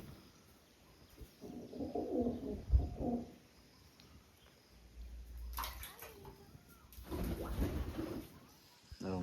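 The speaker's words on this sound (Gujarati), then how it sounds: "કૂવામાં કબૂતર છે" Pigeons cooing inside a farm well, low soft coos that echo in bursts with quiet gaps between them, and faint background noise.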